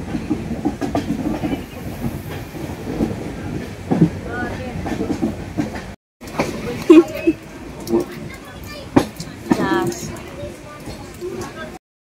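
A train runs on rails toward Dudhsagar Falls with a rhythmic clickety-clack and steady rumble, a brief dropout midway, and people talking over it.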